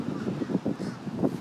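Crows caw outdoors in a few rapid, rough calls over steady wind-like background noise, moderately close.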